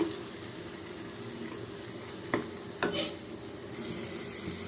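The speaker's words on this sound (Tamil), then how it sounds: "மசாலா நல்லா வதங்கட்டும்" Kashmiri chilli powder, coriander powder and curry masala sautéing in a pan for valaipoo rasam, a steady low sizzle with a few brief scrapes of stirring, close and without talk.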